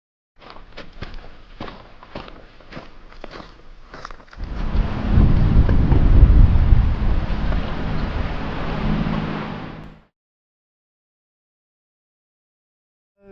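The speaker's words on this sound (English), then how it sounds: "We got some big thunder." Thunder rumbling during a thunderstorm near a creek bed, heard after about four seconds of scattered crunching footsteps as a loud, deep, sustained roll of several seconds that then cuts off into silence.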